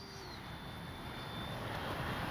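A Freewing F-18 90mm electric ducted-fan RC jet in Blue Angels livery makes a flying pass, a soft, distant broadband whoosh with a faint high whine that swells slightly over two seconds.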